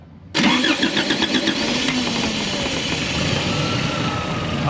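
A Toyota pickup with a stuck-engaged starter solenoid cranks briefly, then fires and settles into a steady, close idle.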